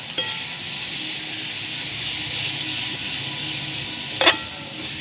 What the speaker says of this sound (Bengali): এখন একটু কষাবো